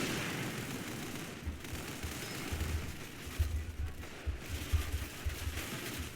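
Video-game SMG gunfire in bursts of rapid low thumping shots that grow denser toward the end, heard over a steady bed of background game noise, with no voices.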